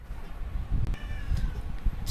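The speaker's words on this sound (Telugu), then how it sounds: "కింద అడుస్తుంది మా పిల్లి" A hungry house cat meows from the floor while chicken is being served, with a couple of short, fairly close meows over background room noise.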